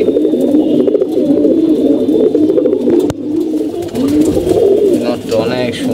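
Pigeons coo steadily and close by, a continuous low, throaty rolling murmur from several birds that runs throughout, briefly dipping near the middle before resuming.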